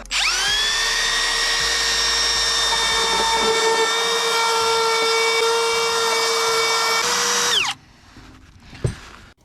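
A power router cutting a hole in wooden RV steps whines steadily at high pitch for several seconds, loud and close, then spins down and cuts off, leaving faint rustling.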